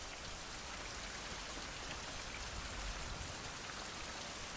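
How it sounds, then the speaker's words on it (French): Rain falls in a survival video game as an even, soft, continuous patter and hiss that stays constant throughout, with no talk or other sounds on top. "Et il se remet à pleuvoir, dis donc."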